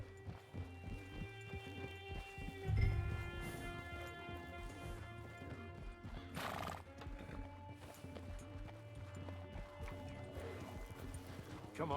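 Steady clip-clop of horse hooves plodding along at a walk in Red Dead Redemption, with a brief whinny and other game sounds and music layered underneath.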